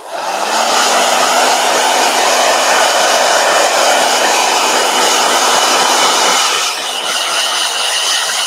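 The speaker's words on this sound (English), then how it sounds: "we'll blow dryer." A blow dryer roars steadily and loudly close by while it dries a watercolor portrait painting, a continuous airy whoosh that dips briefly near the end and then carries on.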